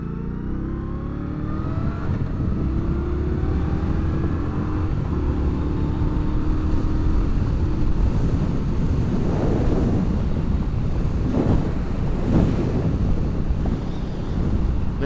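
An Indian Scout Bobber Twenty motorcycle accelerates onto an interstate, its engine note climbing in pitch through the gears beneath a heavy, constant roar of wind buffeting the microphone.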